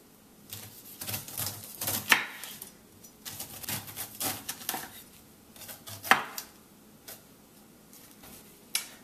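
A kitchen knife slices the sides off fruit on a cutting board for cold-pressed juice, a run of sharp, irregular chopping thuds and clicks, close and crisp, with a few louder strikes standing out.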